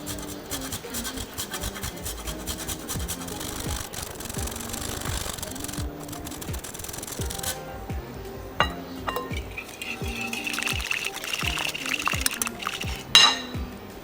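A whisk scrapes and clinks steadily against a bowl while olive oil is worked into a Caesar salad dressing with Parmesan, rasping strokes close up and continuous, with a few sharper clinks near the end.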